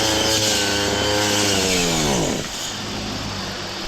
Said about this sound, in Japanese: こちらがね、普通に草を刈ってるわけでございますが、この後アクセルは目いっぱい引っ張っておりますが